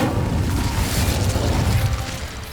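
Incendio fire spell cast in Hogwarts Legacy, a dense roaring whoosh of flame with booming low rumble that holds steady for a couple of seconds before easing off.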